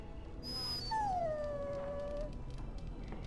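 A dog in the video game Dragon Age: Origins whimpers with a single drawn-out, high whining cry that slides downward, close and clear over soft ambient background.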